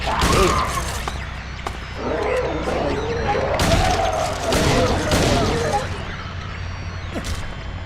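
Gunshots ring out in the Silent Hill 2 Enhanced Edition video game, a few sharp blasts scattered through a dense, loud mix of growling, roaring creature noises and eerie ambience.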